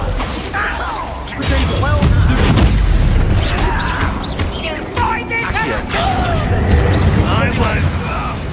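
Confringo spell explosions in the Hogwarts Legacy video game burst loudly amid battle noise, with booming impacts and crashes layered over shouted voices from characters.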